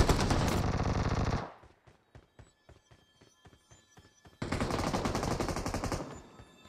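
Gunfire in the video game BGMI: a dense burst of automatic fire, then a string of separated single shots, then another long sustained automatic burst, all close and loud.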